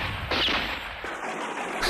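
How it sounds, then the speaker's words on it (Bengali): Cartoon gunshot from an animated children's series: a sharp, loud crack near the start followed by a brief burst of noisy impacts, no voices during it. "এ তো গুলির শব্দ"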